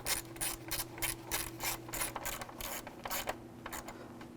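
A ratchet tightens water pump cover bolts on a 2000-06 Chevy Tahoe, a quick rhythmic series of close, crisp clicking strokes over a steady low hum, slowing near the end.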